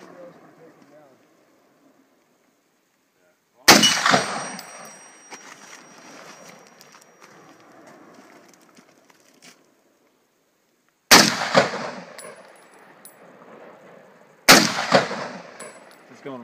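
Three sharp, loud M1 Garand rifle shots ring out outdoors in the Cascades, spaced several seconds apart, each followed by a long echoing decay across the landscape, with quiet stretches between.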